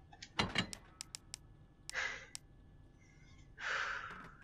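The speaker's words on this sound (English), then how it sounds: "And I heard the door open" A door in Resident Evil 2 Remake creaks and slides open quietly in a dim, still room, with a few faint clicks and breathy shuffles around it.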